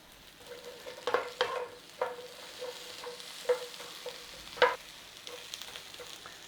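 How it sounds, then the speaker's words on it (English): Green chilies, peppers, onions and tomatoes charring in a dry pan with no oil, a quiet crackle under scattered close knocks and scrapes of a utensil, several sharper clacks, no voices. "we're trying to just put a little bit of charring on there"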